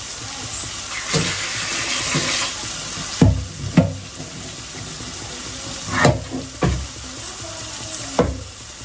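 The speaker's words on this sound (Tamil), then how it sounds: "இப்போ தக்காளி வெங்காயம் நல்லா வதங்கிடுச்சு" Loud sizzling of onion and tomato sautéing in a pan, with several sharp stirring scrapes and knocks spaced a second or two apart, close up and continuous, no speech.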